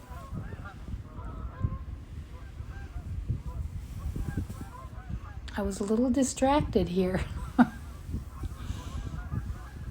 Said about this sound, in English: The snow geese are coming through on their way south for the winter.